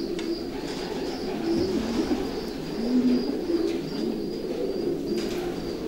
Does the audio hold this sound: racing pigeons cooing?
yes